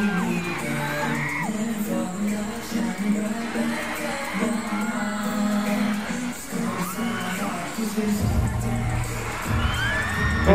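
Fans scream and cheer throughout a performance at a first fan meeting, a loud, constant crowd roar with shrill whoops, with booming bass from the music surging in near the end.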